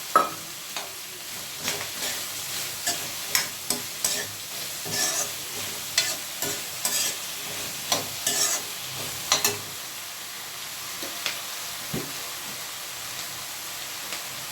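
Curry leaves and okra fry in a pan with a steady soft sizzle, punctuated by a regular series of scraping stirs and light clinks from the spoon, close and with no talk.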